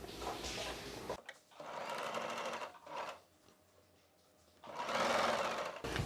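A sewing machine stitches around the neckline of a cross-cut blouse in several bursts, with quieter gaps between runs and a loud final stretch near the end.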